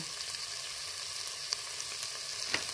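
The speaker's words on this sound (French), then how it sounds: "Après que le beurre soit fondu, j'ajoute les oignons. Je laisse cuire 2 à 3 minutes." Onions cooking in melted butter in a pot give a steady, soft sizzle close by, with a couple of faint clicks on top and no voices.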